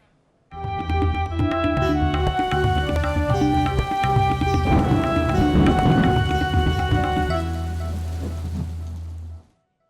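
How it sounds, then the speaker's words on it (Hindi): Torrential monsoon rain pours down in Islamabad and Rawalpindi in a steady, dense, loud roar that holds for several seconds before cutting off abruptly. "इस्लामाबाद रावलपिंडी में मूसलाधार बारिश ने तबाही मचा दी।"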